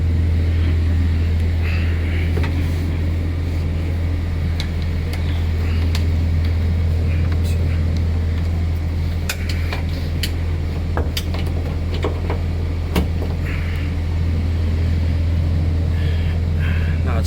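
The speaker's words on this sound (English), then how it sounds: "now that the vehicle's running" A 2019-2022 Ford Ranger pickup idles, a steady loud low hum with constant rumble and scattered small clicks and taps nearby.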